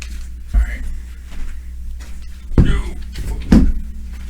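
A door bangs open and shut in a room with three heavy, close thuds spread over a few seconds, while voices talk in the background.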